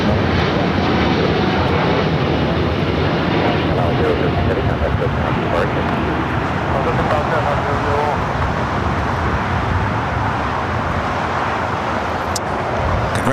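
An Emirates airliner touching down on the north-side runway at Los Angeles International Airport, a loud, steady broadband engine roar that fills the whole stretch, with distant voices under it.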